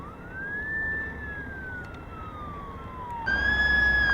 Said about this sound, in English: Here we have a whole column of fire engines rushing up Laguna Canyon